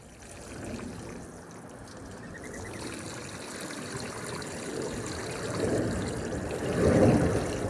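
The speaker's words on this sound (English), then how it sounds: "let's just put a ton of water in it" Water poured in a steady, fairly loud stream onto a newly planted tree, a continuous splashing trickle that swells toward the end.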